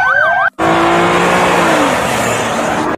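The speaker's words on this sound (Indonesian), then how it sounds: "Wah, yang ini mobil polisi, teman-teman." A toy police car gives a loud electronic wailing siren, a short sweeping burst, then after a brief gap a longer run of revving race-car motor sound and tire-squeal effects.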